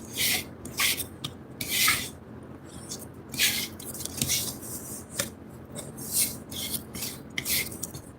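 Bondo body filler being mixed with hardener on cardboard, heard as repeated bursts of scraping and smearing from a spreader, close and fairly quiet, in an irregular rhythm.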